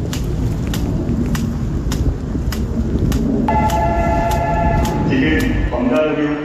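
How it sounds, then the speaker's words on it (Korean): Incheon Line 2 subway train pulling into a station with a continuous loud rumble and rhythmic clacks, then rising tonal electric whines and squeals as it slows; a platform announcement plays over the noise. "지금 검다로로 가는 열차가 들어오고 있습니다"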